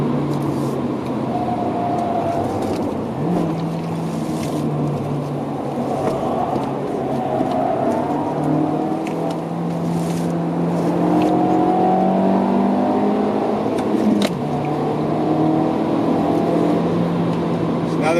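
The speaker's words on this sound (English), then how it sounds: "Now it's about to pass me a car that I was going to rent." A car passes on the road near the Nordschleife, heard as a steady engine rumble that swells and then fades over a continuous traffic drone, with no talk.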